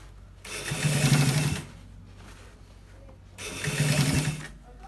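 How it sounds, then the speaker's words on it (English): A sewing machine stitches around the edge of a shawl collar in two loud, steady bursts of motor whirring, with a quiet pause between them. "We are stitching it all around once again."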